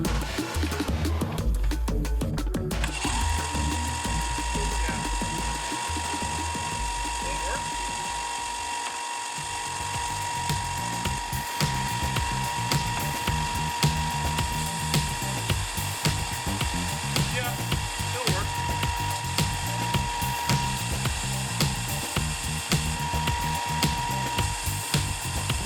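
A Ryobi desktop belt sander starts up and then runs steadily and loudly near the listener, with a continuous motor whine and the rattling buzz of the spinning belt.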